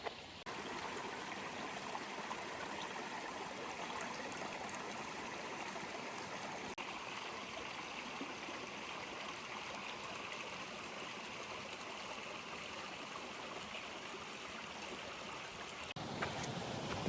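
Horton Creek in Arizona runs over rocks in a steady, close rushing flow, an even broadband wash of water that carries on unbroken with no voices.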